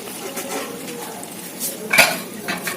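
Kitchen sounds of a stove being switched off and a lid set on a pot, with soft metallic clinks and scrapes over a faint background hiss, a sharper clatter near the middle, then a lighter knock.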